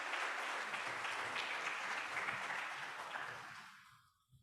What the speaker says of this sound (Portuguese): Un aplauso, por favor, para todos nuestros docentes e investigadores.